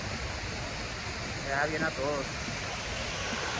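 A small desert waterfall in the Tanque Verde hills, a steady faint rushing wash of falling water that continues throughout, with someone briefly speaking in Spanish over it.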